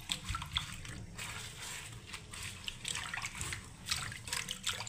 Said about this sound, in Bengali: আমি কুমড়ো শাকগুলো আগে ভালোভাবে ধুয়ে নিচ্ছি